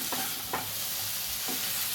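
Soaked, then dried, raw peanuts mixed with corn being stirred in a hot pan, with a few scraping strokes of the spoon over a steady close sizzle.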